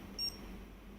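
A single short, bright electronic beep from an AX1 LCD alarm keypad as the star button is pressed, faint and alone over quiet room hiss.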